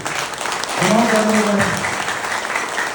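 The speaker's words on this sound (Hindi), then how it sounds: "एक बार जोरदार तालियां बजाओ अपने आप के लिए" Loud applause from an audience at a health seminar, a dense burst of clapping starting almost at once and filling the whole stretch, with voices calling out over it.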